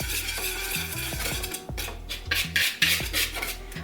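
A spatula scrapes and stirs dry chocolate macaron ingredients in a bowl, rhythmic scraping strokes close up with light clinks against the bowl and no voices.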